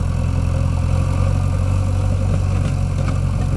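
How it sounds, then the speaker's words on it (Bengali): A JCB backhoe loader works the ground, moving and levelling soil, its engine droning steadily at close range with a deep, continuous low rumble and no pauses. "দেখুন জেসিবি কাজ, জেসিবি কীভাবে চালাচ্ছে দেখুন"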